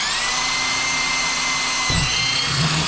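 A power drill whirs steadily as it bores into a plastic lid for a temporary wild-mouse enclosure, a close, continuous buzzing hum that shifts and bogs slightly near the end.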